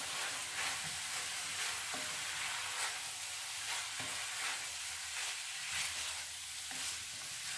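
Hungarian goulash seasoned with paprika sizzles in a pot as it is stirred, with a steady close frying hiss and periodic spoon scrapes and knocks against the pot, no voices.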